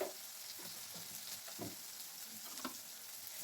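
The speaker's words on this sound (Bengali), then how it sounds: "একটু নাড়াচাড়া করে নেবো বাটারের মধ্যে" Tomatoes fry in butter for street-style pav bhaji, a steady close sizzle under a few scraping stirs of a spoon in the pan.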